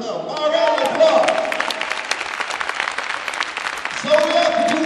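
Audience applause from a crowd at a motivational speech, dense steady clapping filling the hall with a voice rising over it near the start and end.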